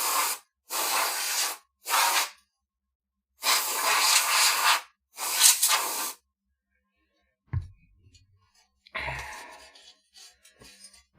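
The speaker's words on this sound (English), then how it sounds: "I'm gonna spray this way." Several loud, close bursts of aerosol spray hiss in short separate blasts while a PS3 is cleaned, followed by faint handling clatter and rustling.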